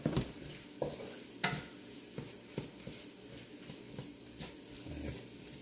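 Mushrooms fry on high heat in a pan for gravy, giving a steady close sizzle broken by sharp clinks and scrapes of stirring every second or so.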